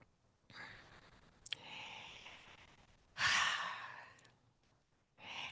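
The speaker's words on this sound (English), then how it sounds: "I'd like us all to take a deep breath right now." A group of people draws a slow, deep breath together, with a soft inhale near the start, a longer breathy stretch, then a louder, fuller exhale in the middle and another breath beginning at the end; nobody speaks.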